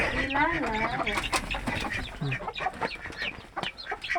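Chickens cluck and call close by at a Thai duck and chicken farm, a busy run of overlapping fowl calls under some human voices.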